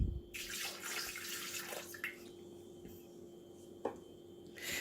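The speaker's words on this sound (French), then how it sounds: "Je vais ajouter l'eau." Water being poured into a Thermomix jug of milk for crêpe batter, a soft, fairly faint splashing trickle with a few small clunks.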